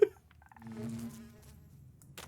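Minecraft Java bees around a hive: a sharp click, then a soft insect buzz that wavers up and down for about two seconds, fairly close and quiet, ending with a brief rustle.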